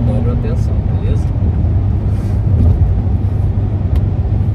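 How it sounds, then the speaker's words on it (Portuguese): A car engine drones loudly and steadily on the road while overtaking, a continuous low rumble filling the cabin from start to finish. "Deixa eu só preparar para fazer uma ultrapassagem aqui."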